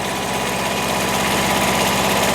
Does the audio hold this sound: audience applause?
no